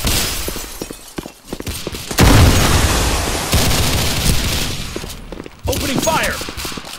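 Grenade blast and bursts of gunfire in a competitive multiplayer shooter game, a sharp loud explosion followed by sustained rattling fire and further booms, with voices calling out over the action.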